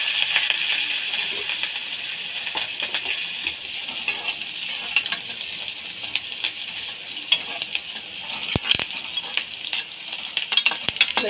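Onions frying in hot oil with popped mustard seeds and curry leaves for a carrot and moong dal kootu, a continuous crackling sizzle with occasional sharper pops and stirring clinks close to the pan.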